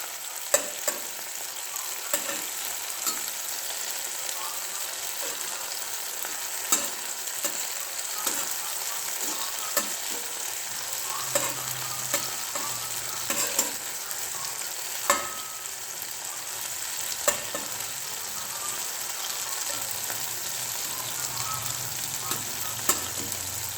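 Garlic and tomatoes fry in a pan, a steady sizzle running throughout with repeated scraping and clicking as a utensil stirs and turns the pieces, fairly quiet and close.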